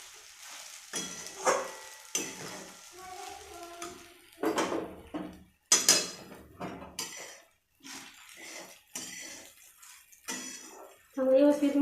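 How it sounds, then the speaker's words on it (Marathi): Sabudana (sago) mixture, ground with salt, is stirred in a pan for khichdi, giving scraping and clinking utensil sounds in short bursts under a voice speaking throughout. "त्यात शाबू टाकायला चांगलं मिक्स करायचं सगळं"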